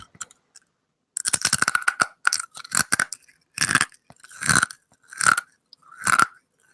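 A scorpion claw is chewed up close, giving loud, crisp crunches in irregular bursts separated by short pauses, with no talking.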